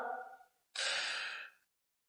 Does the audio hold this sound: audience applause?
no